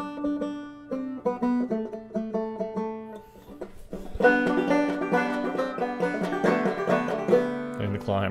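Clawhammer-style banjo plays the Irish pub song All For Me Grog at a fast tempo, with bright plucked notes and a driving rhythm, close and clear with no talk.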